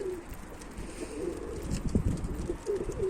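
A Mardin pigeon coos outdoors in low, throaty bursts that repeat over a steady background hum, moderately close and without any talking.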